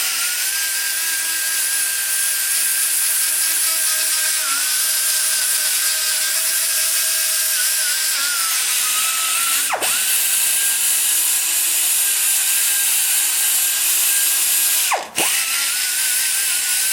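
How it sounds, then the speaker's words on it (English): A high-speed die grinder spins a 120 grit polishing roll while porting a Chevy LT-1 cylinder head, giving a steady, loud, unbroken whine with slight pitch wobbles and two brief dips where the tool lifts off the metal. "now I've went to the 120 grit polishing roll."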